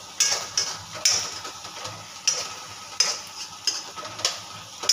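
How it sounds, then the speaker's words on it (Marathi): Peanuts fry in oil for Khandeshi masala khichdi under a soft steady sizzle, while a spoon scrapes the pan in regular strokes about every half second, close and clear. "फोडणी टाकायच्या आधी पण शेंगदाणे टाकले जातात, कारण त्यांना ते व्यवस्थित तळलेले हवे असतात"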